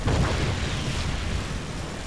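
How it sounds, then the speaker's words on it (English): Continuous loud, rumbling blast as silos are blown up in Just Cause 2, a heavy low roar sustained for the full two seconds with no talk. "let's just start blowing up the obvious silos here"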